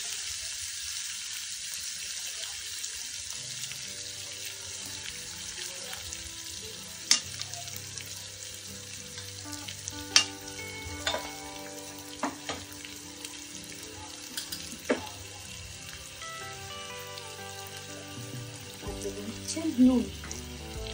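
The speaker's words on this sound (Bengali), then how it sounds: "এটা খুব ভালো করে ডালটা ভাজতে হবে" Dal lentils with turmeric frying in a pan, a steady low sizzle with occasional sharp clinks and scrapes of a stirring spoon, moderately close and under no speech.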